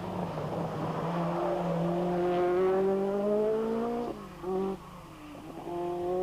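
A 1986 Peugeot rally car drives a tarmac section near the end of a Rally New Zealand stage, its engine climbing loudly through revs, dropping on gear changes, then pulling hard again.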